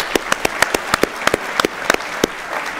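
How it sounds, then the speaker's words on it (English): Sparse applause from a conference audience at ArgoCon, with about a dozen distinct sharp claps spaced irregularly across a few seconds, fairly close and moderately loud, with no talking. "Give it a clap."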